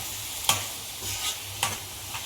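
Fenugreek seed curry (methi dana shaak) is stirred in a pan, giving a few scraping strokes at irregular intervals over a soft background sizzle, close and fairly quiet.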